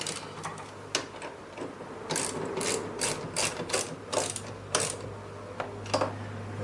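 A ratchet clicks rapidly in short bursts while bolts are tightened on the front brake assembly of a 1968 MGC, close and fairly loud with no speech.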